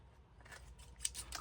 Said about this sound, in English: I'm feeling a tad sorry for my scissors here